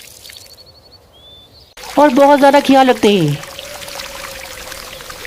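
Cartoon water poured onto the ground as two birds water their soil, a soft splashing pour that runs beneath and after a narrator's voice.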